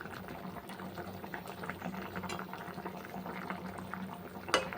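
A pot of bhetki fish curry simmers with a steady, quiet bubbling and gurgling, ending in one louder pop near the close.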